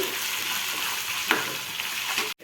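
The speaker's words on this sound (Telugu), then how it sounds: "అల్లం పేస్ట్ బాగా పచ్చి వాసన పోయేంత వరకు వేపుకోవాలి" Ginger paste fries in a pan for boneless chicken masala curry, giving a steady close sizzle with one brief scrape partway through before it cuts off abruptly.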